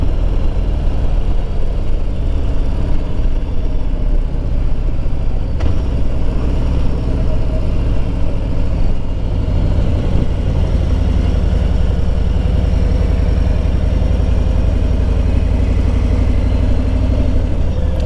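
A new motorcycle's engine running steadily and loud, a continuous deep rumble with a slight rise in pitch partway through, heard close with no talk over it.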